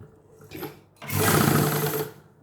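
A sewing machine stitches a shirt hem band. A short burst is followed by a longer, steady, loud whirring run of about a second, close by, with no talking.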